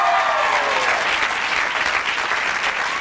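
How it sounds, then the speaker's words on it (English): Sustained audience applause fills a Hollywood presentation event as a director is introduced, dense and steady throughout, with faint voices mixed in. "Let's give him a round of applause."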